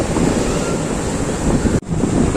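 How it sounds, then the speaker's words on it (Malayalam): Strong wind roars and buffets the microphone over rumbling surf at Pozhikkara beach, a constant loud rush with one brief dropout near the end. "നല്ല കാറ്റാണ് കേട്ടോ"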